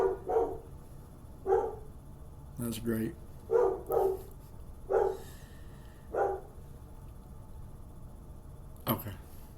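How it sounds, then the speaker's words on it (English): Several dogs bark in short, separate bursts, a few rapid double barks spaced across the stretch at moderate distance, with someone talking briefly in between. "my dogs will bark as soon as I start"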